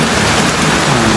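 Heavy rain pours steadily in a rural spot, a dense continuous hiss of drops on surfaces filling the whole stretch at a loud, even level with no voices.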